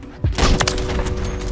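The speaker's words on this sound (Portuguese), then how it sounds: "Uau, ela tem bala explosiva." Explosive-round sniper fire in the video game Call of Duty, heard as a sharp, loud blast followed by a short crackling burst of impacts, close and without talk.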